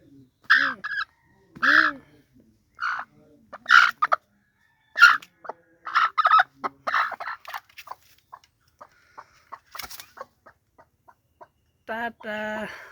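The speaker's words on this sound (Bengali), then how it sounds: "দেখেন আমার মুরগির কতগুলো কষ্ট।" Chickens cluck in a series of short, close calls, bursting out in quick clusters and then tapering into softer, scattered clucks with brief pauses between them.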